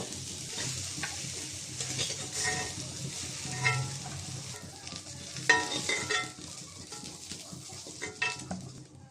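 Cauliflower fries and sizzles in a pan while a utensil stirs it, giving a steady hiss with repeated scraping and clinks of metal against the cookware, close and fairly loud throughout.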